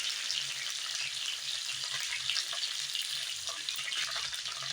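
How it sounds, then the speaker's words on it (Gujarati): Brinjal pieces frying in hot oil with salt and turmeric, a steady, dense sizzle that continues evenly throughout without any speech. "આપણે શેકી લેવાના છે તેલમાં માટે સરસ રીતના શેકાય અને તળાઈ જશે"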